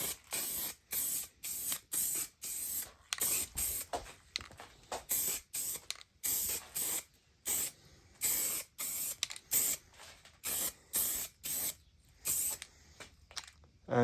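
Spray paint goes onto a Jinty locomotive in light coats. Short, close hissing bursts of the aerosol can start and stop in a quick, irregular rhythm, with brief quiet gaps between them and no talking.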